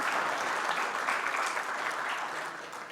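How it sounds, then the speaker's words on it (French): Audience applause after a candidate's presentation at a project competition, a steady dense wash of many hands clapping that holds at full strength throughout and eases slightly toward the end. "Vos applaudissements, s'il vous plaît."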